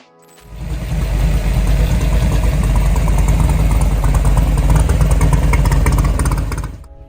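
A Ford 427 FE V8 muscle car engine fires up and idles loudly with a lumpy, rumbling throb and mechanical clatter, close by, then cuts off after several seconds.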